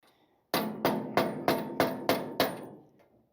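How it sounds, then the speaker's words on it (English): A hammer strikes a part on a 1956 Chevy truck seven times in quick, even succession, each blow a sharp metallic knock that rings briefly before the next. "That one's definitely gonna need the hammer."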